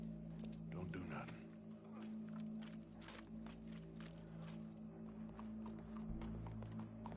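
Horse hooves clip-clop at a steady walking pace in Red Dead Redemption 2, close and fairly soft under a low ambient hum, while people talk over them.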